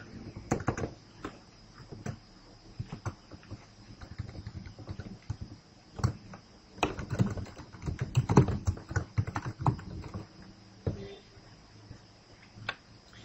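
Parameters being typed on a computer keyboard, a steady run of close, quick key clicks with uneven bursts and short pauses.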